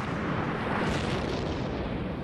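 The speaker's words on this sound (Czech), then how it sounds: "sami nechali vybuchnout pár nákladňáků" A truck is blown up in an explosion test, leaving a dense, continuous roar of blast and rushing debris that stays loud and broadband throughout, with no voices.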